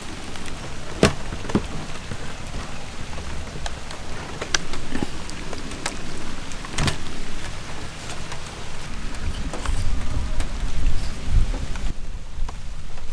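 Heavy rain pours steadily close by, with sharp cracks and rumbles of thunder breaking through it several times.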